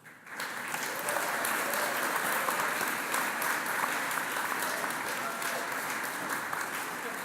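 A graduation ceremony audience applauding family and supporters, dense sustained clapping from a large crowd that swells quickly and holds steady to the end.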